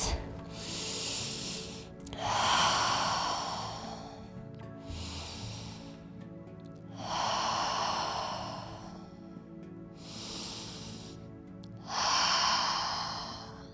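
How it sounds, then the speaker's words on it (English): Slow, deep yoga breaths drawn close to the microphone, with three inhale-and-exhale cycles of airy, hollow rushing that swell and fade in a steady rhythm, without speech. "3 deep breaths."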